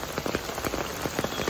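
Heavy monsoon rain in Mumbai pouring steadily onto a nearby surface, a dense hiss with many close spattering drops and no voices.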